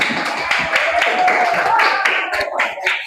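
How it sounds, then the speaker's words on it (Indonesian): Students in a small-group classroom lesson clap for a presenting group, a brief patter of hands with voices mixed in. "berikan tepuk tangan untuk kelompok"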